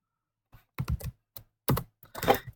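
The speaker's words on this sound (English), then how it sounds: "we'll type in the temporary password we gave them" Someone types a password on a computer keyboard in short, uneven bursts of close, crisp key clicks separated by brief pauses, with no talking.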